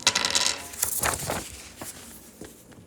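Dice of Destiny tumble onto a classroom table, a quick rattle of clattering hits that bounce and settle within a couple of seconds, close and crisp.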